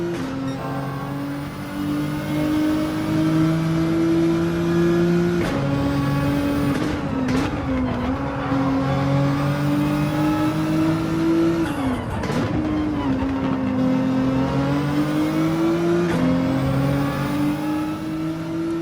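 A race car engine in Gran Turismo 7 on track, a loud, close whining drone that climbs through the revs, drops sharply at each gear shift, then rises again in repeated cycles.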